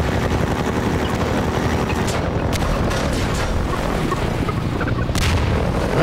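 Bombs go off in the Half-Life 2 video game: a loud, dense roar of explosions and rumbling gunfire with no break, topped by a few sharper blasts spread across the stretch.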